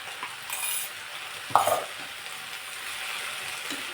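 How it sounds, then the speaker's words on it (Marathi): A little water added to green chilli and garlic frying in a pan gives a steady soft sizzle, with a brief clink of a spoon stirring against the pan partway through, close and quiet. "आता इथे आपण थोडंसं पाणी टाकून घेऊ म्हणजे मिरची आणि लसूण जे आहे ते जळून जाणार नाही"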